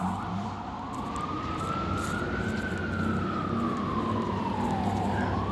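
A loud emergency siren wails steadily, its pitch rising and falling in a slow sweep over rumbling traffic noise, close and continuous throughout.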